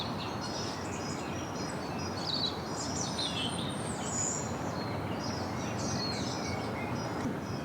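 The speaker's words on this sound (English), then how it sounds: "You can hear the birds up there." Birds sing and chirp in the trees on Mt Victoria in Wellington, a scattering of thin high calls over a steady wash of outdoor ambience, no one speaking.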